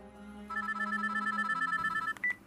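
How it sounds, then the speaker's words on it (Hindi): A phone rings with a repeating electronic ringtone, a bright pulsed tone sounding fairly close and clear over a quiet background, cutting off near the end. "लेकिन तभी पुष्कर के फोन पर उर्वी की मां सुरभि का फोन आता है"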